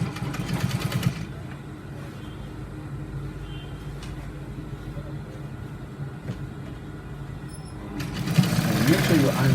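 A sewing machine runs a long continuous stitch through trouser fabric, a steady close whir with a voice talking over part of it.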